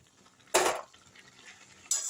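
Fried jackfruit and potato stirred in a pan for a Bengali prawn curry, with two sharp bursts of spoon-on-pan scraping separated by a quiet pause, close and fairly loud, no talking.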